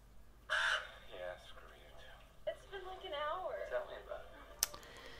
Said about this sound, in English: Don't kill the crow. It's not doing anything to you.